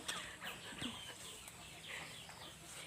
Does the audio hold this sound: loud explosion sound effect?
no